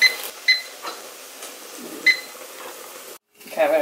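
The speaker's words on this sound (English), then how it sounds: "I'm gonna set the timer again" A kitchen timer gives a few short, sharp electronic beeps while crab is being cooked, spaced apart over a quiet kitchen background with faint voices.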